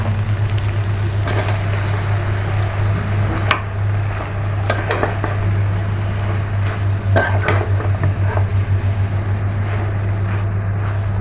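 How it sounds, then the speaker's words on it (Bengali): Malabar spinach going into hot spiced oil with prawns in a pan makes a steady sizzling hiss over a constant low kitchen hum, with occasional clinks of a utensil. "এখন আমি পুঁই শাকগুলো দিয়ে দিব"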